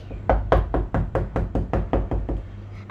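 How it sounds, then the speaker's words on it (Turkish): A rapid series of about eleven loud, close knocks raps on a door in a steady rhythm, each a sharp hollow thud, with no talking over them. "Ay kapıyı yine çaldı."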